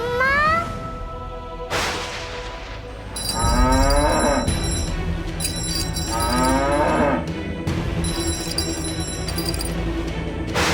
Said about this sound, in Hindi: बार बार रंभा क्यों रही है?